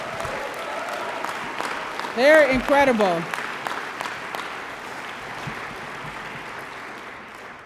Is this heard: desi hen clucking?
no